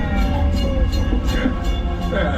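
A Disney World Magic Kingdom theme park train rumbles steadily along its rails at close range, a continuous low clatter and rolling drone with no voices.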